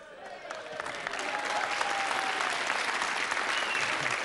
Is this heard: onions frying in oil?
no